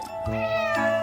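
A cat meows close by in one drawn-out, tonal meow that rises and wavers for about a second, heard alone.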